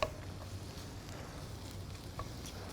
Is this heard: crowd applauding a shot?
no